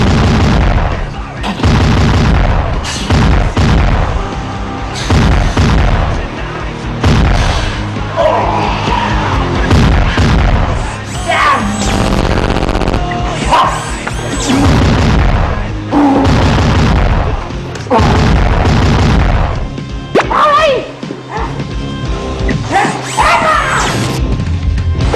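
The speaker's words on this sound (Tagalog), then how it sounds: "Ultra-magnetic bazooka!" Cartoon-style ultra-magnetic bazooka blasts from a toy robot battle, a dense run of loud booms, crashes and impact bursts with rumbling low end, repeating almost continuously at close range with no talking.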